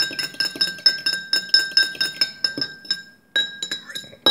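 Rapid rhythmic clinking of a utensil against a glass bowl while a seasoned mixture is stirred, a steady series of bright chinks with short pauses near the end, close and alone with no talk.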